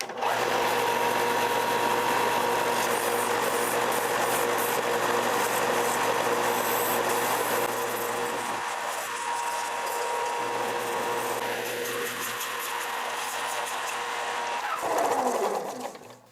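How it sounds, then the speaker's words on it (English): A belt sander shapes a wooden block into a saltwater popper lure body, a steady, loud continuous whir and rasp running almost the whole time, easing slightly midway and swelling again briefly near the end. "I'm gonna go ahead and get the rough shape with the belt sander."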